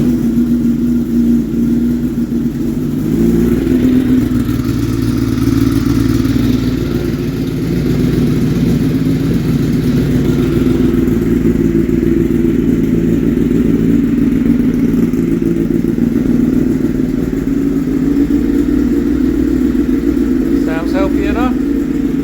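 A Kawasaki ZX10R engine fires up on a stand after a rebuild and engine swap, settling into a loud, steady, close running drone, with a voice briefly heard near the end.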